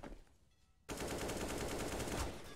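Rapid automatic gunfire from Counter-Strike: Global Offensive on the Overpass map sprays through a smoke, bursting in loud and sustained after a near-silent start and holding a dense rattling stream to the end.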